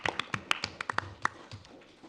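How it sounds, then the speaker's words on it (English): Sparse clapping from a few people at a school district board of education meeting, roughly a dozen quick claps that fade after a couple of seconds. "probably also deserves a round of applause"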